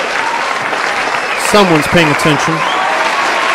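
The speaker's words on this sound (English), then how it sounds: "Thank you for clapping" Live show audience clapping: a brief burst of applause rising under a host's talking voice over steady background noise, moderately loud and short-lived.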